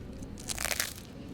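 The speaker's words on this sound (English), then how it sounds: "That crunch." Biting into a crunchy pizza slice from a Berlin grab-and-go spot gives one short, crisp crunch up close, with a brief burst of crackling in the middle of a quiet stretch and no talk.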